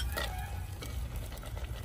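Onions stirred in hot oil in a pan for a mutton dish, a steady sizzle with scraping spoon strokes, close and continuous with no talk.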